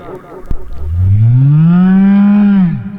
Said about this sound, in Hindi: गाय और बैल की दर्द भरी पुकार जब महाराज परीक्षित के कानों में पहुंची